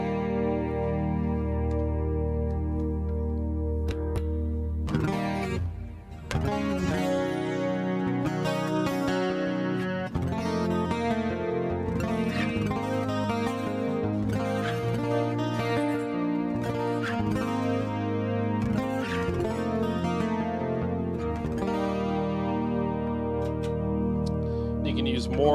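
An electric guitar is played through its piezo pickup, giving a bright, plucked-acoustic tone. Notes and chords ring out for about twenty-five seconds with a brief pause near the start, carrying a touch of effects such as reverb.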